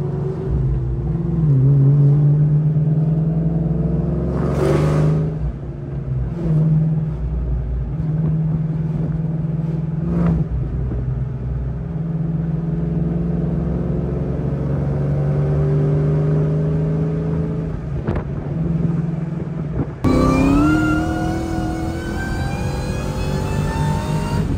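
A car engine fitted with a 2.2 Kenne Bell supercharger, loud and close, idling with a deep rumble and rising whine, then revving sharply several times.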